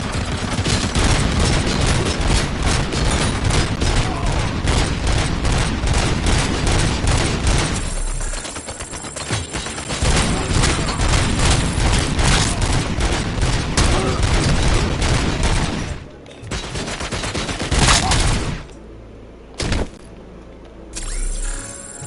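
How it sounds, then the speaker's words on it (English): Sustained fully automatic fire from a 50 caliber anti-materiel rifle in the Robocop video game, loud dense rapid bursts filling most of the stretch with brief pauses and a few short breaks near the end. "They're unleashing a 50 caliber anti-material rifle on full auto"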